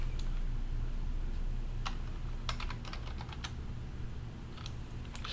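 Keys clack on a computer keyboard as a terminal command is typed, a few faint scattered taps and short bursts over a steady low hum.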